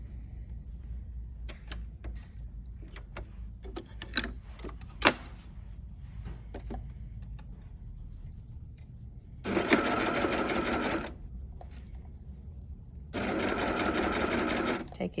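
A baby lock sewing machine with a bead and sequin foot sews beads onto fabric with a flatlock stitch. It gives two short, bright bursts of close mechanical whirring after a stretch of soft handling clicks and taps.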